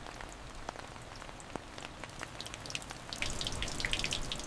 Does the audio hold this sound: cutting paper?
no